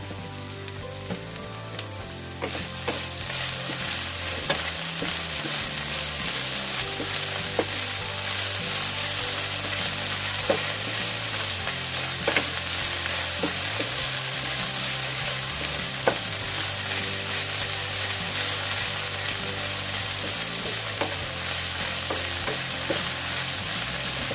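Pork sautéing in a pan with white sugar for pork binagoongan, a continuous dense sizzle with scattered sharp crackles and occasional utensil clicks, close and steady over a faint low hum, with no voices.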